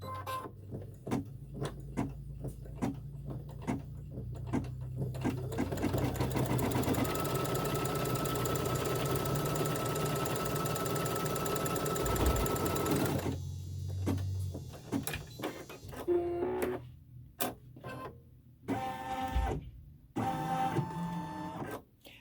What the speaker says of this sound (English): Now it's going to stitch the seam line that we will use when we sew the blocks together.